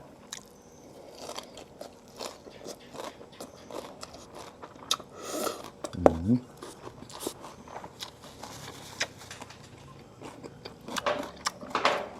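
Close, crisp crunching and chewing of sliced raw banana blossom soaked in brine, eaten with a fermented-fish chili dip. Irregular bites and moist squishes come one after another with no talking.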